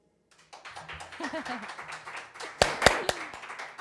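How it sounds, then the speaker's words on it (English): A small live audience at The 615 Hideaway claps after a song, a brief scattered patter with a few sharp louder claps near the end. "I'm glad we had some claps because it could be awkward"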